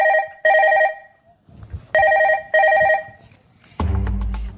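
A telephone rings in three loud, repeated bursts of electronic trilling, separated by short gaps with faint background noise, followed by a louder low rumbling clatter near the end.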